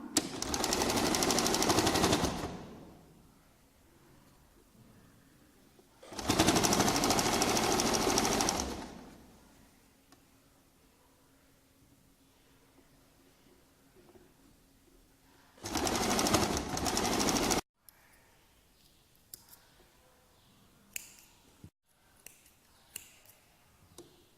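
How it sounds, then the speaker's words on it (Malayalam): Sewing machine stitching fabric piping for a boat neckline, three loud running bursts of rapid mechanical stitching separated by quiet pauses, followed by scattered small clicks and handling noises. "നമുക്ക് സ്റ്റിച്ച് ചെയ്തെടുക്കാം."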